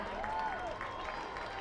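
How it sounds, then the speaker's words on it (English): Crowd applause at a high school football game ceremony between St. Francis and Erie, a steady outdoor wash of clapping at even level with a faint whistle-like tone sliding through it. "Give a round of applause for Elijah Brennan."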